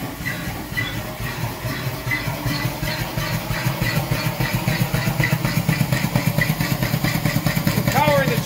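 An Ashworth Parker engine driving a DC dynamo starts up and runs, with a loud rapid chugging beat that grows steadier and stronger over a constant mechanical drone and hiss.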